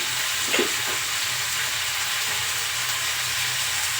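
Cumin seeds sizzle steadily in hot oil in a pan while idli chutney is being cooked, a constant close frying hiss with a brief stir or clink early on.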